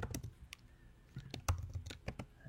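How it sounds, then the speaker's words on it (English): Soft, irregular keystrokes on a computer keyboard as a post is typed, scattered clicks and taps close by with short pauses between bursts. "So I could type something in here."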